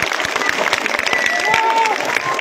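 A crowd at a political rally claps loudly and steadily in a dense, close wash of hands, with a faint tone and murmur underneath.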